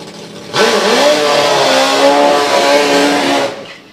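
A 4-cylinder drag racing motorbike engine at a drag strip blasts into a loud, rising rev for about three seconds, close and dominant, then cuts off and fades.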